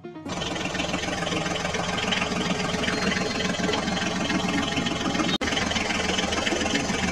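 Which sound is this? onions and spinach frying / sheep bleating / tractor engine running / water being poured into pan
tractor engine running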